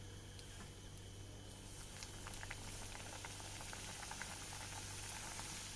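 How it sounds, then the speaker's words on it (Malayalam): Iftar snacks deep-frying in oil, with a continuous bubbling sizzle that holds steady and close, and scattered small pops over a low hum. "ഇതേപോലെ നമുക്ക് ബാക്കിയുള്ളതും ഫ്രൈ ചെയ്തെടുക്കാം"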